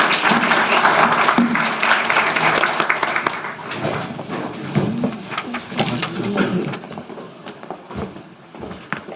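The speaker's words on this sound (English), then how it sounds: "Please give a big round of applause to our speakers." Audience at an academic exercise oncology symposium applauds the speakers at session's end, strong clapping at first that thins and tapers into scattered individual claps.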